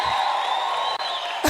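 Audience at the Kliptown Youth Program campus opening applauds and cheers for the Toto family, a steady wash of crowd noise held for over a second before a louder burst at the end.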